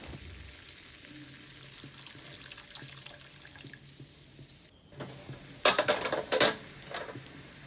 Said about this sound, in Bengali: আমি আর একটু জল দিয়ে দেব